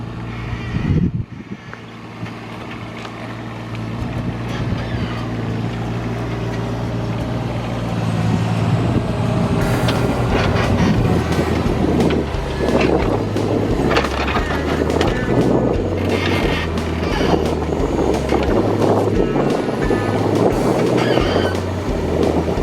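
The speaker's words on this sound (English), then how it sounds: "we've got the little digger from a place called Southbrook Hire in Rangiora" A small hired mini excavator works during hedgerow planting near Rangiora. Its diesel engine rumbles steadily, and the pitch rises and falls as the machine loads and eases. Faint voices can be heard now and then.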